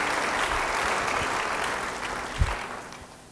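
Applause from a church congregation during a sermon, a broad steady wash of clapping at moderate level with a brief louder thump near the end.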